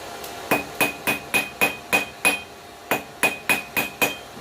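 A hammer draws a taper on hot steel at an anvil while forging a corkscrew. The blows ring out sharply and close in an even rhythm, about a dozen strikes with one short pause midway.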